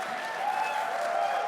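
An audience claps at a PAX East 2024 convention panel, a brief, steady wash of applause that stays even and fairly loud for its whole short span.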